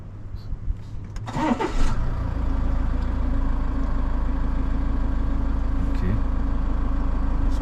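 A Range Rover Evoque engine cranks and catches, then settles into a steady, even idle heard up close for several seconds.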